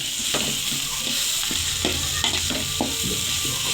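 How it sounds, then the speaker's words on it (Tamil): Onions and tomatoes sauté for a chicken curry, sizzling steadily in the pan as a spoon stirs and scrapes in irregular strokes, close and clear with no talk. "வெங்காயம் பொன்னிறமாக வதக்கிய பின்னர் தக்காளி சேர்த்து வதக்கவும்."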